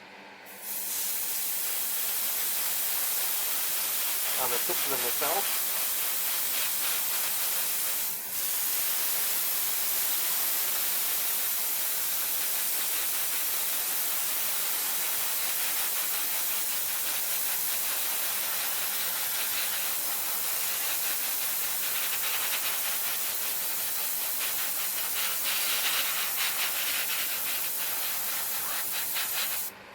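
Continuous hissing spray of an airbrush spraying Duck Egg Blue paint onto a 1:1000 Star Trek Enterprise Refit model kit, running steadily for a long stretch, with a brief murmur of speech near the start.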